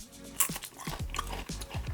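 Crunchy, slightly burnt homemade dried mango being bitten and chewed up close, with several crisp crunching bites in an irregular rhythm over about two seconds and no talking.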